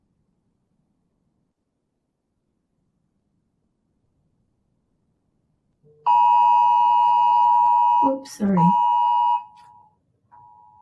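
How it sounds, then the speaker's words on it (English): A phone alert tone sounds suddenly after a stretch of silence, a bright steady electronic chime of about three seconds that breaks off and then resumes briefly. A voice speaks softly partway through it. "Some alert coming through my phone."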